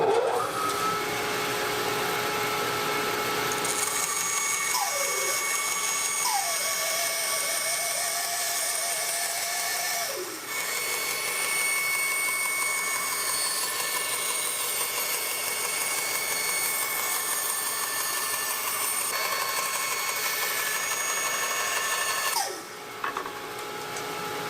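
A bandsaw rips a board of wood against a fence set just over three inches, a steady motor whine with a shifting tone as the blade cuts, running continuously and fairly loud for most of the stretch.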